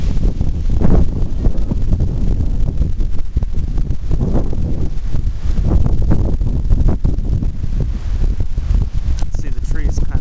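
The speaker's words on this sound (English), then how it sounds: "Gust front's upon us." Strong thunderstorm gust front wind in State College, Pennsylvania, roaring steadily through trees with buffeting microphone wind noise, rustling leaves and loud continuous gusts throughout, with people talking underneath.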